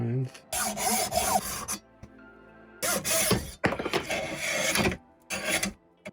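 A hand saw cuts through a wooden pipe blank held in a hard vise. Loud, close rasping strokes come in separate bursts with short pauses between them.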